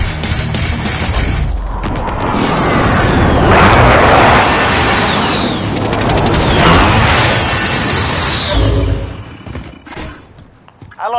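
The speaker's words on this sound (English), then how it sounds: "Be advised, friendly precision airstrike inbound." Precision airstrike in Call of Duty Warzone, heavy booming explosions rolling one after another with crackling debris, loud and close, sustained for several seconds before tapering off.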